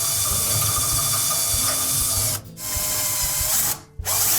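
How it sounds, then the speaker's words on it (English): A power drill with a 1/8 inch bit bores out rivets holding a thermal fuse bracket on a Samsung dryer, a loud continuous whirring grind broken by two brief pauses as the trigger releases. "we will need to drill out those rivets to remove the old one"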